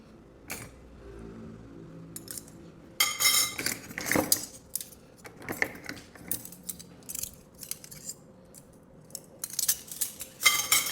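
Metal cutlery clinks and rattles in bursts in a dishwasher cutlery basket, jangling pieces handled close by with quieter pauses between.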